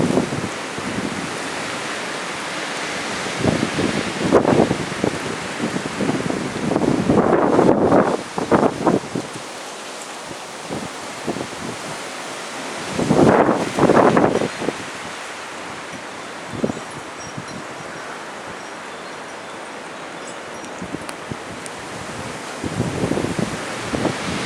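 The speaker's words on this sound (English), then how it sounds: "Now it's getting windy right here at the street level again." Strong gusts of wind at street level during a massive windstorm, surging in loud rushing bursts through trees with rustling and microphone buffeting, then dropping to quieter stretches between gusts.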